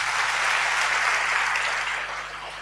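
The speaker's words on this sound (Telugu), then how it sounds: "ఉంటే దేవుని మహిమపరుస్తూ చప్పట్లు కొడతారా?" A church congregation claps in applause during a sermon, a brief burst of dense, close clapping that holds steady and then tapers off slightly at the end.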